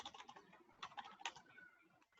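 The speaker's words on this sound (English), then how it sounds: "go to the browser, type the code" Someone types a web address into a browser on a computer keyboard, producing a quick, quiet run of close key clicks with a few louder taps.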